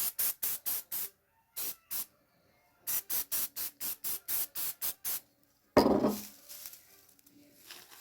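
Short bursts of spray-glue hiss from a spray can in quick rhythmic pumps, close and crisp, followed by a louder rustling clatter.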